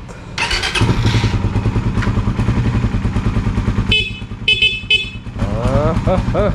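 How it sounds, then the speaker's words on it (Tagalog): A loud aftermarket replacement horn on a Suzuki Raider 150 Fi motorcycle blares in repeated bursts over an idling engine, with a few short honks and brief voices near the end. "definitely mas malakas and mas matining yung tunog niya kaysa dun sa stock horn natin"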